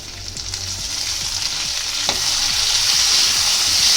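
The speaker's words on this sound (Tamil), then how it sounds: "நல்லா போட்டு வதக்கணும்." Onion and tomato sauté in a pan for kara chutney, a loud, close, continuous sizzle that swells slightly over time, with faint rhythmic stirring taps beneath and no speech.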